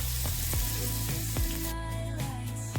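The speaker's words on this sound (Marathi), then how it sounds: "कांदा छान फ्राय करून घ्यायचा आहे" Chopped onion fries in a pan for a drumstick and toor dal amti, with a loud, continuous, close sizzle throughout, layered over tonal music.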